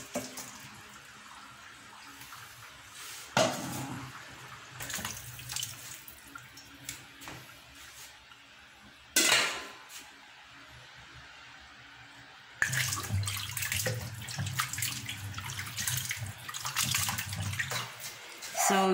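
Water runs into a kitchen sink while cooked chicken feet are rinsed after boiling, a steady splashing wash that fades then returns louder with sharp clatters, indoors, with no talking.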